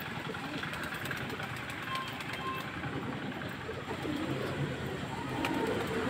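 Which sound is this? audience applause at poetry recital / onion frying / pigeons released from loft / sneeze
pigeons released from loft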